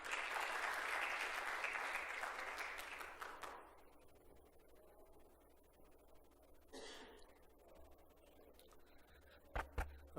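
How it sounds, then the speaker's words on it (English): Conference audience applause at a development-bank event fills the opening seconds with dense clapping, then quickly fades to a quiet room with faint rustle and a couple of sharp knocks near the end. "Can I get a very big warm of applause for him, please?"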